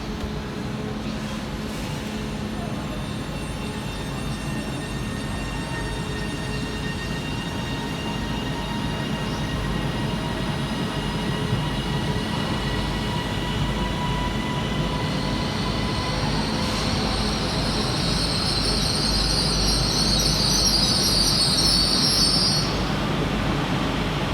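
An electric train, a Class 331, pulls away from Manchester Victoria station, with steady motor whine and rising metallic wheel squeals that get louder, over a continuous rumble of rolling stock.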